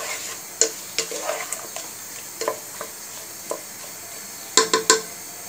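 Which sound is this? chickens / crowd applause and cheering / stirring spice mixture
stirring spice mixture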